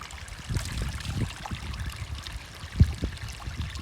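A freshwater stream in a natural outdoor setting flows steadily with a broad, close rushing wash and small splashes throughout, with one brief louder splash near the end.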